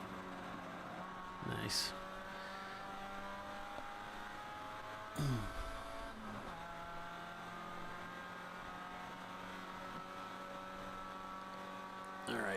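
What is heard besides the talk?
race car engine rev-match downshift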